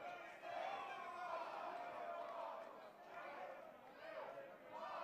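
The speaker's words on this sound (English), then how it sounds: "They're chanting Midwest for a team from St. Louis" A beer pong tournament crowd chanting "Midwest" for a St. Louis team, a steady mass of voices filling the room at moderate distance, with rhythmic swells running throughout.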